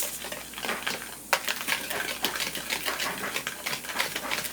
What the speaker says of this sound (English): I'm going to give it a mix so I can get all the powder, salt, all of it mixed up